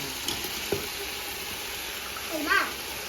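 Chopped tomatoes hit a hot, oiled pan while making chicken biryani, giving a soft, steady sizzle with faint stirring and scraping sounds in a quiet home kitchen.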